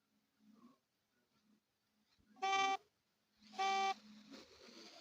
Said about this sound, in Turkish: Korna çalmasam iş etmir.